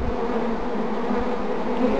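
Honey bees buzzing continuously during varroa mite sampling from a hive, a dense steady drone of many insects close by with no talk.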